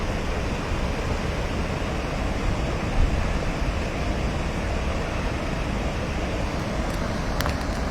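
Water rushes steadily from the opened gates of Dantiwada Dam in Banaskantha, a constant, dense roar heard from nearby with no break across the whole stretch.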